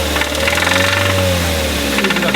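A Mazda MX-5 engine with an internal mechanical failure runs loud and close, a rough continuous tone with a rising and falling pitch through the short burst.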